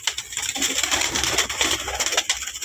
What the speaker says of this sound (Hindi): ये देखिए काला कबूतर गारंटी है तुम्हारे भाई की मेरे भाइयों